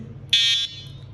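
A Flacarp X7 fishing bite alarm gives one short, shrill electronic beep lasting about a third of a second, close and clear over a faint low background hum.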